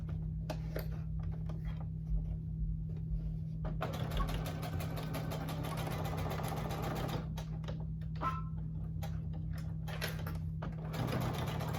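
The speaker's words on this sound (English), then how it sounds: "So now what I'm going to do is just sew across." A domestic sewing machine stitches across a handmade wallet, its rapid mechanical whirr running steadily for long stretches with a constant low motor hum, broken by a few brief pauses.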